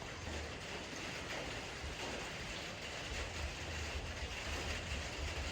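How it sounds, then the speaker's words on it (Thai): Continuous broadband hiss of steady rain, dense and even throughout with no pauses, like a heavy downpour heard close by. "ฝนมาอีกแล้ว"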